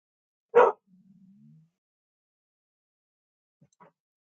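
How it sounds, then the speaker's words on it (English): A single dog bark near the mic at an indoor art session, followed by a short low whine and then a faint, quiet yip a few seconds later. "Sorry about the dog."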